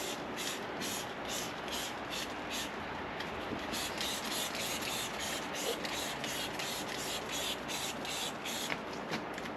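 Steady scrubbing and rubbing against a wet motorcycle, a continuous rhythmic swishing that keeps going at even strength, with no talking.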